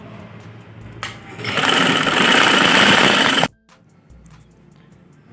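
A sewing machine stitches right along the edge of a girl's winter frock in a single rapid, buzzing run of about two seconds, with quiet room tone before and after.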